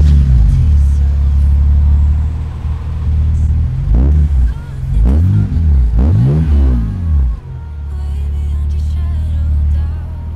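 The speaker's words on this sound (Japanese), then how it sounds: "ちなみにこれちょっとエンジン音聞けたりしますか。" A BMW Z4 open-top roadster's naturally aspirated engine idles with a deep steady rumble, then revs several times in rising and falling sweeps before settling back to idle, loud and close.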